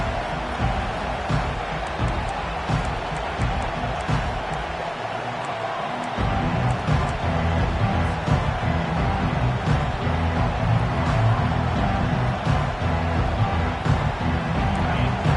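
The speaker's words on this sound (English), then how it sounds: "This crowd trying to show them what it's going to be like all day in this house" Football stadium crowd roaring, a broad steady wall of noise that swells louder partway through and stays heavy, with faint voices in the mix.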